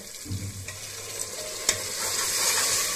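Spice paste of onion, ginger and garlic fries for fish pulao, giving a steady close sizzle with a few scraping stirs and no voices.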